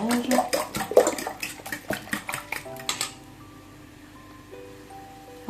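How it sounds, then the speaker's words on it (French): A fork mixing in a bowl clinks and scrapes quickly and rhythmically for about three seconds, then stops, leaving a quiet room. "Ensuite, je prends une fourchette. Ici, je mélange."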